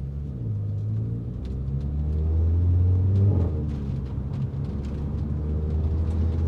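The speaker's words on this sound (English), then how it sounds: "this is just driving around normally what it would sound like if you were actually in the back seat of the EOS" Inside a VW EOS 2.0 TSI cruising on country roads, heard from the back seat, a steady low engine drone and road rumble fills the cabin, swelling slightly mid-way as the engine pulls, with no talking.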